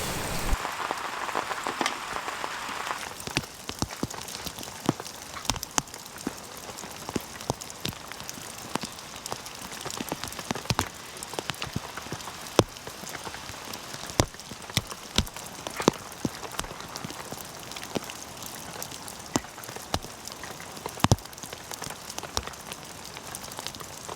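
Heavy rain falls on a tent at a campsite during a downpour, a dense continuous patter with sharper individual drops tapping close by throughout, no voices.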